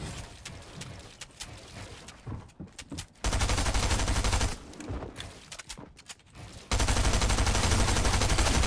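Boom sniper shots in Fortnite fire as loud, sustained explosive bursts, first a crackle of distant gunfire, then two heavy roaring blasts about three seconds apart, each holding at full volume.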